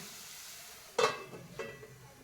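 A spoon stirring spices into green turmeric curry in a pan, one loud scraping, sizzling stroke followed by a softer second stir, close up and quiet otherwise, no talking.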